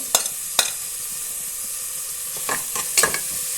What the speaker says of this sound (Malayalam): ഇതിലേക്ക് ഞാനിനി ഈ തക്കാളി ചതച്ച് വെച്ച ഈ ചെറിയുള്ളി വെളുത്തുള്ളി ഇഞ്ചി എല്ലാം ഇട്ട് കൊടുക്കുന്നുണ്ട്